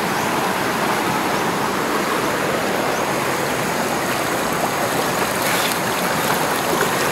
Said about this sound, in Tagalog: Yung Sapa nila dito.